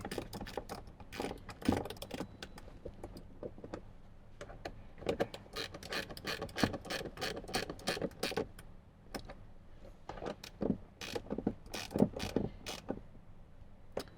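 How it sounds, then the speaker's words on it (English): A wrench tightens the screws of an acrylic speaker adapter ring during a speaker install in a Toyota Tundra, giving repeated close ratcheting clicks and creaks in irregular bursts for several seconds, with no talk. "let's grab our wrench and we'll tighten them down."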